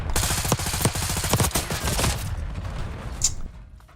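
Gunfire in Call of Duty Black Ops 6, a dense rapid burst of automatic shots and overlapping fire, loud and close, tapering off near the end with a last sharp crack.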